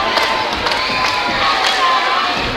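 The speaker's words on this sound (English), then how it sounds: "Crowd raises their energy, trying to get inside the head of Dave Ambush" Basketball crowd at a live game cheering and shouting with rising energy while a free throw is attempted, a dense, steady roar of many voices with scattered whoops, loud and continuous throughout.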